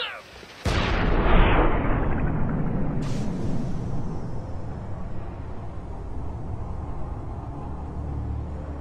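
A grenade goes off in an animated Red vs Blue scene: a sudden loud blast followed by a long, rumbling decay, then a second, smaller burst a few seconds later that fades into a lingering roar.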